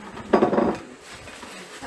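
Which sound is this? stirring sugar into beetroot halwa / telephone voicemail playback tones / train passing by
stirring sugar into beetroot halwa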